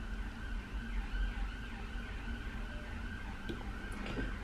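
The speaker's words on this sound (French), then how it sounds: "Oui, oui, c'est des ambulances." Ambulance sirens wail along a busy city street, loud and continuous over traffic rumble, with the pitch sweeping up and down as the vehicles pass nearby.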